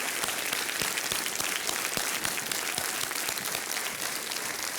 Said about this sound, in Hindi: मैं चाहता हूँ कि गौरी शिंदे के लिए तालियां बजाएं